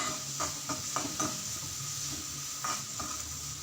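Chopped onion frying in a pan, a soft steady sizzle under a quick run of spatula scrapes against the pan, then a pause and two more strokes, close but quiet, with no talk.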